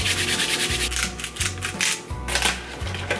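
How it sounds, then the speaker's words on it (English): Flour and salt being whisked together in a bowl for vegan doughnut dough, heard as a steady, close rhythmic scraping and rubbing, repeating strokes at a brisk even pace, with no talking. "Whisk together flour and salt in a bowl."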